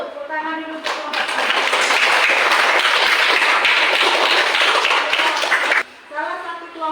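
A classroom group claps for a presenting team, a dense burst of applause lasting several seconds, with a voice speaking just before and after.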